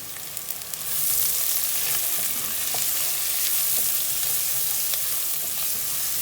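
Chicken pieces go into a pan of hot spices for nasi mandi, and a steady loud sizzle of frying starts abruptly and carries on evenly, with faint stirring clicks.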